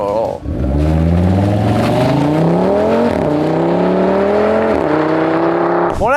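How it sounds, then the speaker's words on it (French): A loud Audi TT with the 2.5-litre five-cylinder engine from the Audi RS3, making 400 horsepower, revs up hard and climbs through the gears, the throaty note rising and dropping with each shift, very close. "C'est le mythique 5 cylindres 2 litres 5 des Audi RS3 dans une Audi TT."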